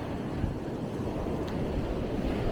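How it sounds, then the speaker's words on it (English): Ocean waves break on a beach under changing wind, a loud, continuous wash of surf with gusty wind noise on the microphone. "See, the waves are a bit bigger."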